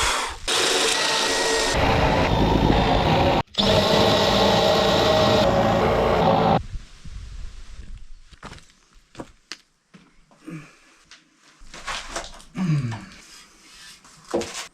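A 16mm spade bit bores holes in wood during renovation work on an abandoned Irish cottage: about six and a half seconds of loud, continuous drilling with one brief break, then scattered quieter knocks and handling noises.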